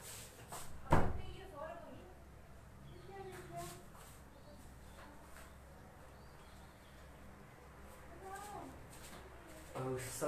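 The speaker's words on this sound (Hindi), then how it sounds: "दरवाजा बंद कर देता हूँ।" A door swings shut with a single sharp thud near the start, followed by faint creaks and small knocks, while someone talks quietly in the room.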